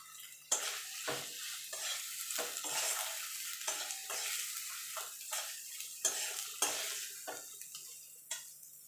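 Tomato fries in a pan with ginger, garlic and salt, with a soft sizzle under repeated close scraping strokes of a spoon stirring at an uneven rhythm.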